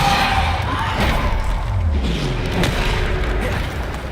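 Bombarda spell explosions go off during spell combat in Hogwarts Legacy, a continuous wash of loud, deep booms and thuds layered over dense, rumbling battle noise that barely lets up.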